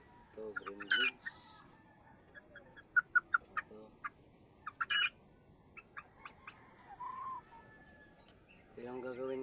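A green-legged hen clucks and crows in scattered bursts, with sharp short notes between longer calls, close and moderately loud over a quiet background.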